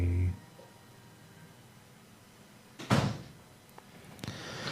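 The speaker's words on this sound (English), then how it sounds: "I heard your door shut." A door in a home shuts with a single clear thud, fairly close and alone, after a short faint sound at the start and before a few light knocks.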